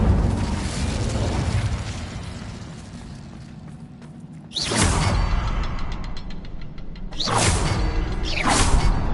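A fire spell is cast in Hogwarts Legacy: sharp whooshing bursts of flame flare up with a fiery rush, over a rumbling, crackling game background, two or three separate blasts spaced a couple of seconds apart.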